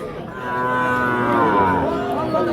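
A cow moos at a cattle market in Jhenaidah, one long, loud, drawn-out low call held close by for over two seconds with no talk over it.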